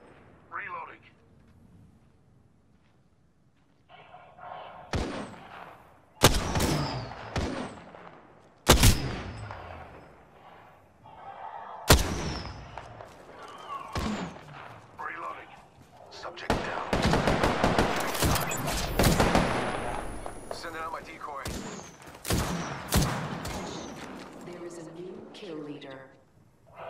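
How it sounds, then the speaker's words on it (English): Gunfire in the shooter game Apex Legends: irregular bursts of sharp shots and rapid volleys, some loud and close, building to a sustained dense firefight, with voices talking over parts of it. "Shots fired, and they hit me."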